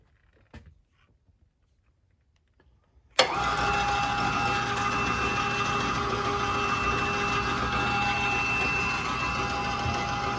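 A homemade garage lift rides up steel channels on its I-beam frame, starting abruptly after a quiet pause and then running as a steady, close mechanical drone with a faint whine, with no one talking.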